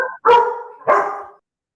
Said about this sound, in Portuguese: Os cachorros querem falar, gente.